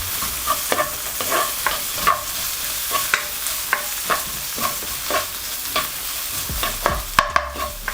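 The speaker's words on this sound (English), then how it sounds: "Our onions, peppers and chilies. You want to lightly saute these." Onions, peppers and chilies sauté in a frying pan with leftover paste, a steady sizzle under repeated scraping stirs of a utensil against the pan, close and moderately loud.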